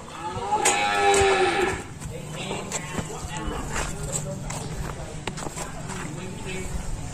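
French cream-colored cattle on a farm, one loud near moo rising and holding before it fades, then shuffling hooves and farm noise while a person talks in the background.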